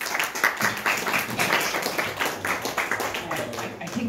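Applause for a speaker at an orangery opening in the walled garden of Marlay Park, a modest gathering clapping steadily and fairly close for several seconds, with a few voices mixed in.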